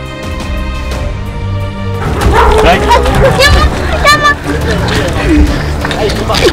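Native Tamil Nadu breed dogs at a Rajapalayam dog farm bark repeatedly, loud and near. Several yips overlap amid background chatter, and a person speaks at the start.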